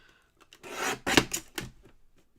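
Blades trim excess off a craft piece with a few close, rough scraping cuts in quick succession, loud and dry, with no voices.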